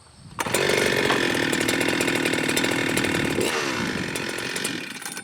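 A Holzforma G395 chainsaw drop-started, catching after a brief thump and roaring loudly up close at steady high revs before easing slightly, alone without talk.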